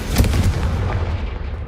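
A Confringo spell explosion in the video game Hogwarts Legacy, a single loud, deep boom that hits at once and then decays into a rumbling tail.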